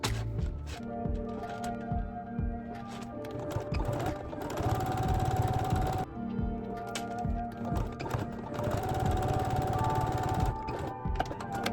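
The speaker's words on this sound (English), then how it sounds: "I just went ahead and just sewed together 3 rows of the 3x3 inch squares" A sewing machine runs in steady bursts as it stitches rows of 3x3 inch fabric squares together, its rapid mechanical chatter close and continuous, pausing briefly between runs.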